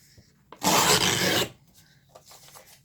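Edges of folded 8.5 by 11 paper are trimmed in one loud, close, raspy cutting stroke lasting about a second, followed by a few softer scraping touches.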